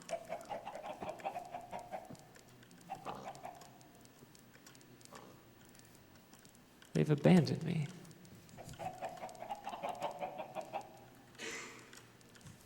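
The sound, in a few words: chickens clucking in the video game Minecraft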